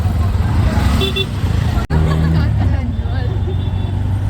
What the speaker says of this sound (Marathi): आता आम्ही बसलेलो आहेत रिक्षामध्ये